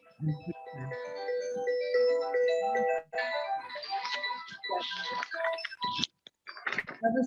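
A phone rings during a talk with a bright, melodic tune of sustained tones. It plays for several seconds, then breaks into shorter bursts, clear and fairly close, with no speech over it.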